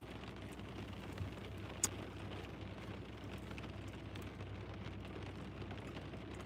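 Rain falls steadily on a rainy day, a faint, even patter with one brief sharp tick partway through and no voices.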